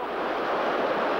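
Ocean surf crashes against rocks in a continuous loud roar of breaking water and wash, steady and full throughout the short stretch.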